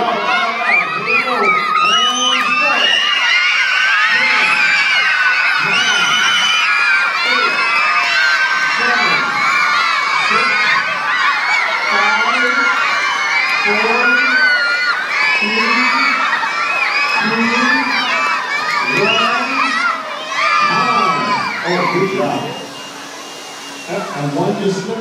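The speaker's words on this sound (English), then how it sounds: "She's going to need to hear a lot of cheering, boys and girls." Boys and girls cheering and shouting loudly and continuously as a crowd at a children's event, a dense wall of excited young voices that eases off slightly near the end.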